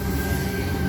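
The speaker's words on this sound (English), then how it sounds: "T60 has extra loud chopper motors" A loud, steady electric train with extra-loud chopper motors rumbles close by at Penshurst with a constant whine and low drone, no voices.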